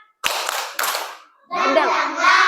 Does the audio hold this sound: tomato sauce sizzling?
no